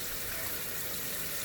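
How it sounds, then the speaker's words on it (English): Water pouring into a cooking pot, a continuous close splashing rush of even loudness throughout the short stretch. "I'm going to put some water in my pot"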